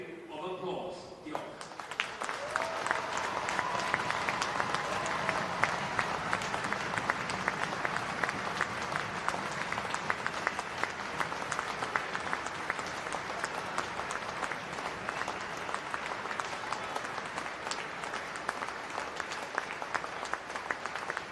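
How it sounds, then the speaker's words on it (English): Sustained applause from a large stadium crowd at a women's Six Nations rugby match between Wales and Scotland, dense and steady for the full stretch with a brief quieter lead-in and no talk over it. "Please, can you show your support during a period of applause?"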